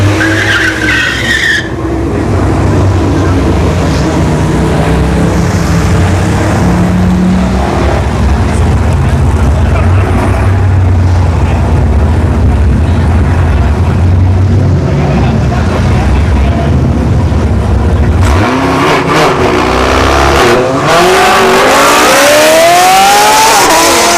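A Chevrolet Camaro SS and an Infiniti Q50 launch side by side at a Texas dragstrip test-and-tune night, engines roaring loud and close with tire chirps, then rising revs sweeping away as a commentator talks over it.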